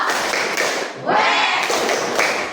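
A group standing up and clapping hands together, with quick bursts of loud, fairly close applause.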